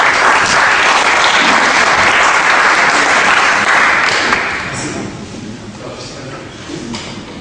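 A crowd at an evening award ceremony applauds loudly and densely for about four seconds, then the clapping thins out to scattered hands and background room noise.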